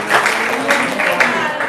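Audience applause at a talk on municipal politics and social oversight, with steady loud clapping through the whole short stretch and voices mixed in.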